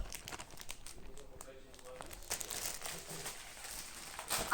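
Crinkling plastic packaging of a Pokémon birthday present being torn open, with irregular rustling bursts growing louder toward the end, mixed with children's chatter in the background.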